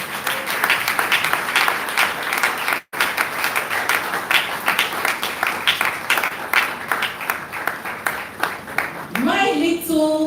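Audience applause at a Lagos health information management professionals' celebration, a dense steady wash of many hands clapping for about nine seconds, broken by one brief dropout, with a few voices mixed in near the end.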